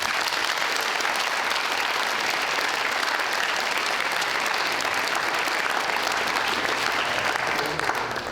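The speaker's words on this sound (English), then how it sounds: "a big round of applause" Sustained applause from a school presentation evening audience, a dense, even clapping that fills the whole stretch before tapering slightly at the end.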